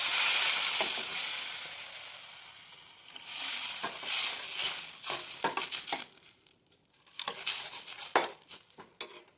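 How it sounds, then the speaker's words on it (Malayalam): Spice paste for a date pickle with hot water added bubbles and sizzles in a pan, with a loud hiss fading and then returning, plus clinks and scrapes from stirring a spoon against the pot. "നമ്മുടെ ഈ അരപ്പ് തിളച്ച് വന്നിട്ടുണ്ട്."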